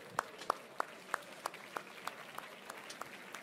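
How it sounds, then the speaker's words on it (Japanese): Seminar attendees clap in a faint, distant, evenly spaced rhythm, roughly three claps per second, over a quiet room murmur. "自分自身に大きな拍手"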